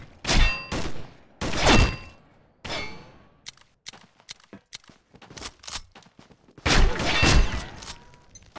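Video game gun firing: several loud sharp blasts in short bursts spaced a second or so apart, then light clicks and rattles before another heavy burst, no talking.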